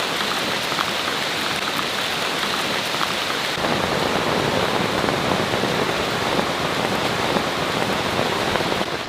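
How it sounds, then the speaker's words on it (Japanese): Steady, heavy rain falls in a Borneo jungle, a dense and continuous wash of drops striking leaves and surfaces, loud and close throughout with no voices. "避難所に戻るとまた雨だ。"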